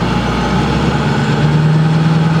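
A 6.4L Powerstroke diesel truck engine fitted with big turbos, running in drive at about 1,500 RPM, a loud close continuous low rumble with a steady droning tone and no speech.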